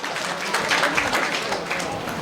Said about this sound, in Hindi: एक बार ताली बजाइए आपको आप लोग